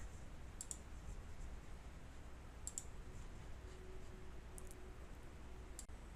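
Scattered soft computer mouse clicks, about five spread out, as Internet Explorer and Deltek expense software are opened, heard faintly over a steady background hiss.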